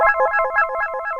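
A telephone rings in a home during a Hindi TV serial scene, repeating electronic trill bursts in a steady pattern, close and fairly loud, with no voices over it.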